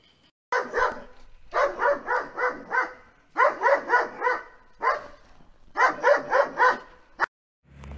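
Several dogs barking in rapid bursts of four or five yaps, grouped into repeated clusters with brief pauses, loud and close, with no talking over them.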